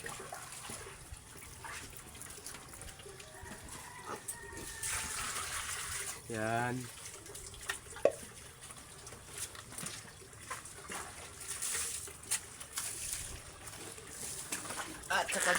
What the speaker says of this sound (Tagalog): Lagyan na natin ng tubig ang kanilang lagayan mga kababoy.